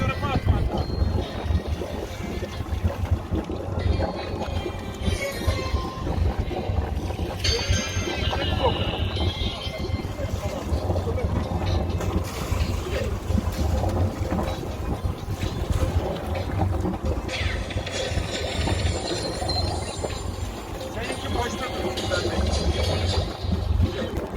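Wind buffets a small boat anchored off an island, with gusty blowing noise over lapping water and a low rumble, continuous and close to the microphone.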